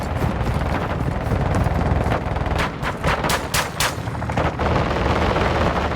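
Dense, rapid gunfire in Call of Duty, loud and continuous bursts of automatic shots rattling over a constant roar of game noise, with sharper cracks clustered in the middle.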